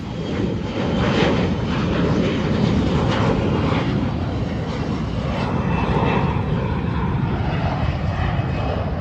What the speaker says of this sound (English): Here comes this plane right here.